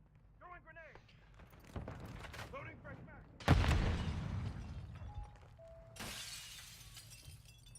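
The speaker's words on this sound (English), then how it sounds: "Throwing grenade." A grenade blows up during a tactical shooter video game, a loud sharp blast at mid-clip that rolls into a long rumbling decay, with scattered gunfire, clatter and a burst of debris noise around it and talk-like game voices earlier.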